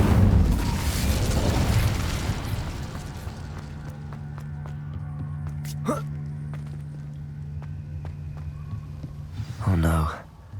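An Incendio fire spell is cast in the video game Hogwarts Legacy, starting with a loud, roaring whoosh of flame that fades into a low, steady hum. A sharp pop follows later, then a short burst near the end.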